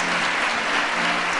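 An audience at a Christian religious gathering breaks into loud, sustained applause, a dense, even wash of clapping with no pauses and no talk.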